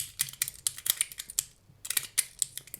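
Magnetic Zirc Trifecta slider fidget toy being clicked, rotated and slid, a rapid close series of sharp plastic and metal clicks with a short pause midway, fairly quiet and without speech.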